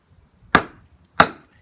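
Knife blade chopping down through a cut with a metal-on-metal edge, two sharp close impacts about half a second apart, each decaying quickly, with no talk.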